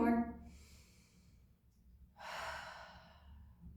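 Slow, deep breaths during a therapy ball exercise: a soft airy exhale at the start, a pause, then a long, louder breath, close and unhurried with no talking.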